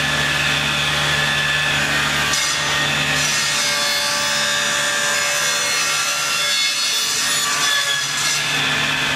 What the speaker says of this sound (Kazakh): жаңағы өлшем бойынша мен арнайы осы станокта кесемін